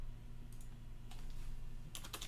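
A computer keyboard clatters in a few short, faint bursts of key presses over a low steady hum, with a quicker flurry of taps at the end.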